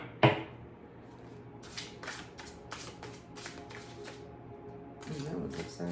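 A deck of playing cards gets shuffled in a run of quick riffles and soft slides, fairly close but quiet, with a tap at the start and a faint voice in the background.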